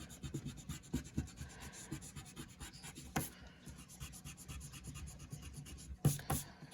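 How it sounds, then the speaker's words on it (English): Pencil guidelines being erased with an eraser on a two-point perspective drawing, a close, quiet scratchy rubbing in uneven bursts, with a couple of sharper knocks along the way. "I'm going to erase the rest of my guidelines."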